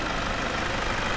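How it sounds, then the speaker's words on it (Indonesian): A car engine idles steadily and loudly, a constant low rumble with no breaks and no voices, recorded close while the motor's vibration and RPM are measured. "vibrasi dari mesinnya"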